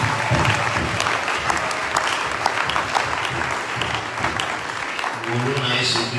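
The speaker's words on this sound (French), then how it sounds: "Oui, nous acclamons Jésus-Christ." A church congregation applauds steadily and loudly, filling the space with dense clapping; a voice speaks over the applause, and at the end a short sung or sustained tone comes in.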